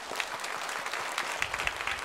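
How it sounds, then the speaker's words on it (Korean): A church congregation claps to welcome new members during a Sunday worship service, a lively sustained round of applause with scattered sharper claps rising toward the end. "새 가족을 박수로 환영하겠습니다."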